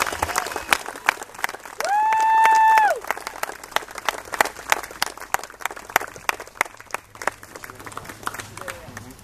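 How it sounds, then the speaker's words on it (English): Applause at a softball tournament, a loose crowd of scattered outdoor claps continuing for several seconds, with a brief whistle-like tone early on and voices nearby. "I want to give a huge round of applause to my good friend, George Shea."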